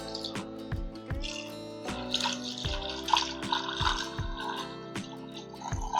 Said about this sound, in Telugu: ఇందులోనే మనం వాటర్ కూడా వేసుకుందామండి, మటన్ ములిగేంత వరకు వేసుకుందాం వాటర్ అనేది